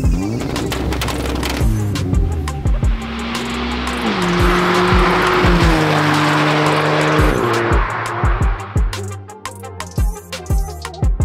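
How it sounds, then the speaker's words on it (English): A Mitsubishi Evo engine on a dyno revs hard and sustained, rising and falling in pitch, with sharp crackles and pops as it winds down. "So the Evo is on the dyno now"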